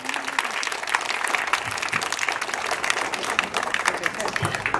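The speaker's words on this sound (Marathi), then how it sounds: "तर त्यांचं टाळ्या वाजवून आपल्याला सगळ्यांना स्वागत करायचं आहे." An audience at a Marathi school event applauds to welcome visiting students from Arvali, with dense, steady clapping throughout and faint voices underneath.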